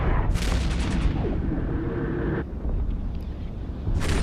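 Ship weapons in the space game EVE Echoes firing during an elite-ship fight in a Serpentis deadspace, a few heavy booming blasts with a rumbling tail, the last one arriving near the end.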